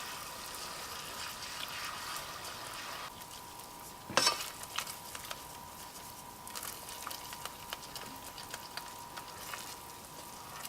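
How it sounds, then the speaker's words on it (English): A spoon stirs a ginger-spiced sauce in a pan for Thai chicken pizza. It makes a soft, continuous wet scraping and bubbling, with one sharper clatter partway through. "And then we're just going to stir it up."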